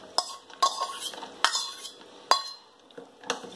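A spoon stirs dry fruits into a soaking mixture in a bowl for an eggless Christmas atta cake, giving five or six separate clinking scrapes against the bowl, close and crisp, with quiet gaps between.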